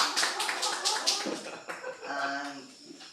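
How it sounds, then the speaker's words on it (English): Students in a classroom clap their hands together for a few seconds, a loose burst of applause that fades out, with a voice talking over the end. "Let's clap your hands."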